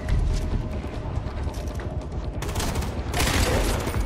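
Sustained gunfire in Far Cry 4, a dense rattle of repeated shots that swells louder in the last couple of seconds, with a steady wash of game sound underneath.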